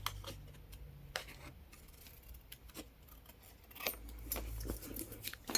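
Scissors snip into the corners of fabric being trimmed for a fabric frame on a handmade journal page. Several quiet, close, crisp cuts come in an uneven rhythm with no talking.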